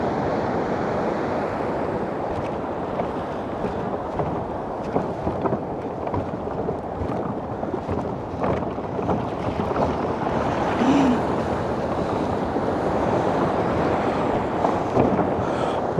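Sea surf rolling in at Bekal Fort beach in Kerala, a steady broadband wash of breaking waves with wind buffeting the microphone, loud and continuous throughout without clear pauses.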